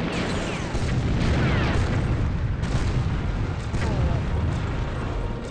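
Grenade explosions in the N64 tank game Battletanx, a steady barrage of loud, rumbling booms and blasts layered over continuous game noise.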